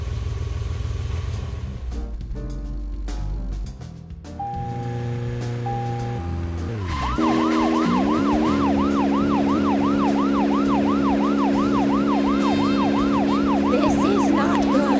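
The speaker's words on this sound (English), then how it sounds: "Now, get the car going!" A car driven in the video game Deadly Premonition, its wailing siren rising and falling steadily and loudly over background game music after a short musical intro.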